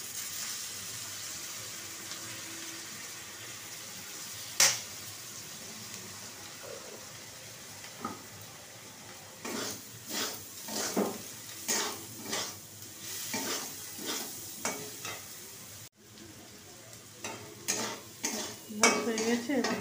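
Vinegar goes into a pan of potato and onion chowmein. Soft sizzling frying runs throughout, with a sharp splash and a growing series of rhythmic stirring scrapes and clinks against the pan.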